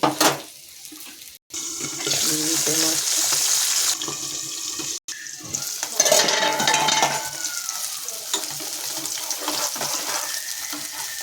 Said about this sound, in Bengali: মাছগুলো একটু কড়াই ভাজবো আর ঢাকা দেবো